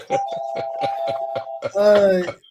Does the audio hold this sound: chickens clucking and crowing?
no